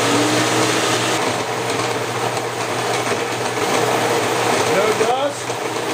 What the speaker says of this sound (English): You flip on one switch, the motor comes on, and the vac system comes on.